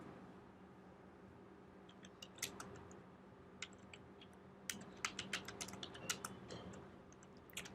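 Code is typed on a computer keyboard in quick, irregular bursts of clicking keys that grow busier partway through, over a quiet room hum.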